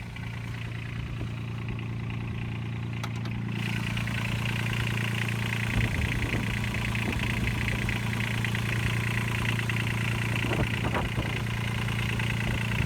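A 719 cc Kubota diesel engine in a Honda Insight idles steadily, close up, with a constant low hum and a faint rattle; no one speaks.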